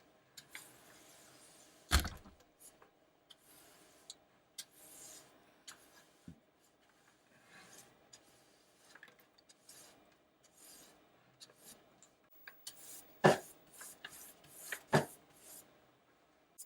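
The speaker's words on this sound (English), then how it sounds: "I'm just going to sweep this into a bucket I have off camera" A bench brush sweeps wood shavings off a workbench into a bucket, giving soft, intermittent bristle rasps and scrapes with a few sharper knocks, fairly close and with no talking.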